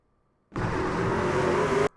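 Race car engines in iRacing at Richmond, a loud sustained roar of several motors that cuts in abruptly after a half-second of near silence, holds steady for about a second and a half, then stops sharply.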